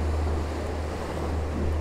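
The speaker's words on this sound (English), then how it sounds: "I'm just going to wait for some waves to come in and try and capture them as they're breaking across the scene" Ocean waves roll in and break on a moody seashore, a continuous close wash of surf with a low rumble and wind buffeting the microphone.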